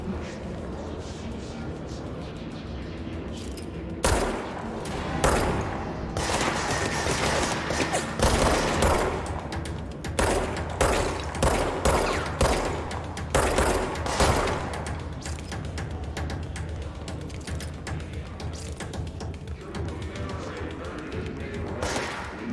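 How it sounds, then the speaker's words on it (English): Machine gun fire erupts in the video game Control, with loud, dense bursts of rapid shots and crashing impacts that keep coming in clusters for most of the stretch after a quieter opening, and a voice occasionally talks over them. "machine gun."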